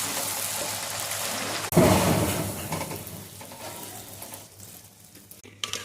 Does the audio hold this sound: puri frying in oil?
yes